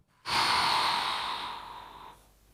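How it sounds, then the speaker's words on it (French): A single long exhale during a relaxation and back-stretching exercise, a close, breathy rush of air that starts suddenly, holds steady for nearly two seconds and fades gently at the end. "J'expire."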